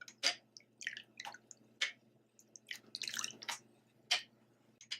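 A homemade mouthwash liquid is stirred in a container, giving a series of wet, irregular drips and squishy splashes with short pauses between them, fairly close and quiet with no voice.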